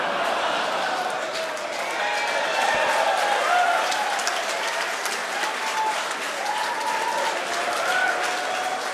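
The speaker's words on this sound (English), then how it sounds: "You may have heard the SpaceX team cheering in the background." SpaceX team cheering and applauding at a Falcon 9 landing during the CRS-16 mission, a sustained wash of distant crowd applause and excited voices behind a live broadcast commentary.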